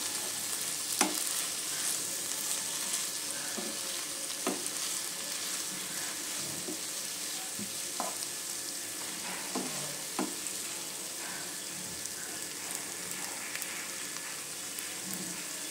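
Spices sizzle and fry steadily in a pan for chicken curry, with a spoon scraping and stirring in scattered strokes over the continuous crackle, close and with no talking.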